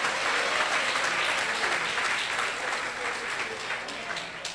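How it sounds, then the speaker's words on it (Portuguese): A Pentecostal church congregation claps hands together in steady, dense applause that fills the room, loud and continuous throughout with no clear talk over it. "Batam palmas para louvar e engrandecer o nome de Jesus."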